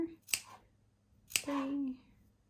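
Scissors cutting fabric for a burp cloth: two crisp snips about a second apart, close and clear, the second followed by a short fabric drag.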